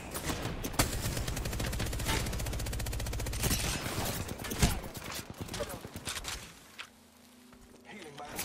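Video game gunfire in a combat shooter, rapid bursts and sharp shots crackling over a rhythmic clopping, with a player talking and the firing thinning out toward the end.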